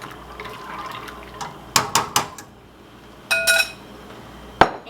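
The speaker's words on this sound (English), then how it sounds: "And I'm going to add in all of my pasta. Give that another mix." Dry pasta tipped into a pot of water for an Italian turkey ragu dinner, then stirred, giving a few sharp clinks and knocks against the pot with brief watery swishes in between, close and moderately loud.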